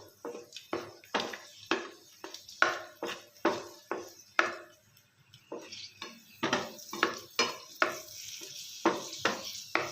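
Raisins are fried in a pan while being made into carrot halwa, heard as a steady series of close, sharp scraping and tapping strokes from stirring in a quiet kitchen, with a faint sizzle underneath.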